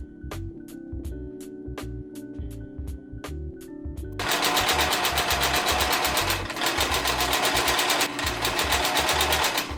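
A sewing machine stitches woven bed-sheet fabric, first in short separate bursts, then running steadily and loudly for several seconds with one brief pause, close by with no talk.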